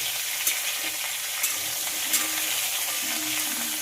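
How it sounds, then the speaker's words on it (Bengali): Potatoes and pointed gourd fry together in hot oil, a steady close sizzle with a few sharp spatters and light stirring scrapes throughout. "আলু আর পটল আমি একসঙ্গে ভাজছি"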